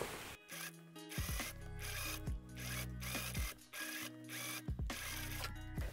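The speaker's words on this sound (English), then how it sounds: "I'm definitely gonna sew this down and then do a stitch all around here." A sewing machine topstitching down the collar of a corduroy dress, with steady mechanical whirring broken into several bursts and short pauses between runs. It sounds close and fairly loud, with no talking.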